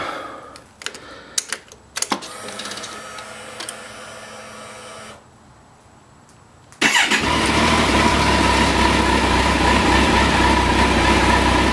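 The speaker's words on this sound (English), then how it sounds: "it's always fun to start the bike up" A motorcycle being started before an oil change: a few sharp clicks and clunks, a short quiet gap, then the engine catches and settles into a loud, steady, close idle that runs to the end.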